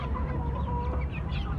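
Young chicks about two to two and a half months old, a mixed flock of Japanese, Plymouth Rock, bantam and buff birds, attempt a thin, wavering crow over steady clucking and barnyard bustle, close and continuous.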